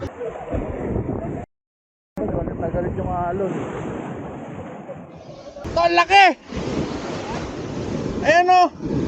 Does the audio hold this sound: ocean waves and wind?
yes